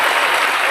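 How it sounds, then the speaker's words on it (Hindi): Loud, dense audience applause greets a guest at a Box FM event, a steady wash of clapping with no pauses. "तो जोरदार तालियों से स्वागत कीजिए राजवीर सिंह चलकोई सर का"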